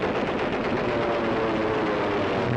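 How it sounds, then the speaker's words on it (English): Rapid cannon fire from fighter planes strafing enemy gun crews during a 1943 air raid on Japanese ships, recorded on archival war film: a dense, continuous rattle of gunfire lasting throughout, loud and steady with no speech. "Fighter planes sweep in with cannon blazing, stopping enemy gun crews."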